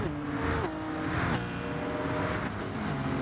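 Race cars in a racing video game roaring past at Grand Valley Speedway, engines at high revs with pitch sweeping down as each car flies by, loud and continuous.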